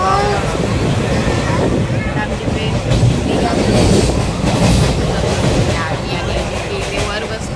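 Inside a crowded, non-AC sleeper-class train coach in motion, a steady rumbling roar of wheels and carriage with a broad rushing hiss, voices murmuring in the background.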